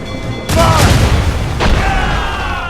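Ship cannons fire in the video game Assassin's Creed Rogue: two heavy, booming blasts about a second apart, loud and close, each trailing off into a rumbling tail.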